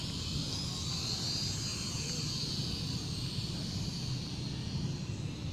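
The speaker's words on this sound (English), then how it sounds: "Flying a drone in reality, guys." A drone flies overhead at the government center in Bacolod City, its steady whining buzz holding evenly under constant low outdoor rumble throughout.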